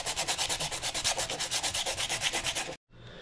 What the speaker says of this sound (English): just finished sanding the mold